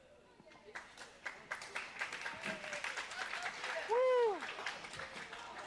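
Applause and cheering for FCCLA members at a school spring awards ceremony, scattered clapping building into a fuller round with a loud whoop and voices mixed in throughout.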